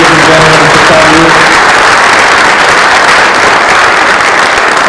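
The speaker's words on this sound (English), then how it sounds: "How about one more thunderous applause for these amazing performers?" Audience at a middle school concert giving a loud, dense, continuous round of applause that fills the whole stretch without letting up.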